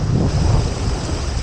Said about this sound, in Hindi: ये पानी की आवाज़ देखो।